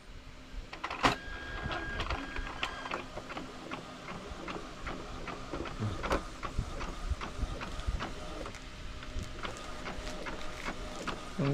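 An inkjet printer prints a waterproof vinyl sticker sheet, a close, steady whirr with rhythmic ticking and clicking of the moving print head and feed running for the whole stretch, no voices.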